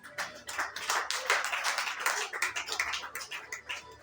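A church congregation bursts into rapid, dense clapping that carries on for several seconds in a room, many hands striking together in a busy, uneven flurry with no voices.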